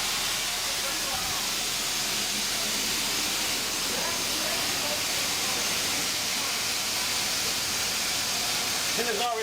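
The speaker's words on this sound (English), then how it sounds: "So all the water is out, so you're just seeing the steam now." Steam hissing from the cylinders of a narrow gauge steam locomotive on a heritage railway, a continuous broad loud hiss under faint indistinct talk.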